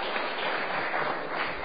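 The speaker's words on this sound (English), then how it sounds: "Let's give them one more round of applause." Steady applause from a crowd at a St. Louis Board of Aldermen meeting, dense continuous clapping that holds at an even level throughout.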